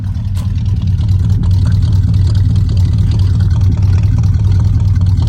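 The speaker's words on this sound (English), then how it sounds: "Just had to give it a little gas. Let's listen to that exhaust." A car engine idles and revs with a deep, loud exhaust rumble, steady and close throughout.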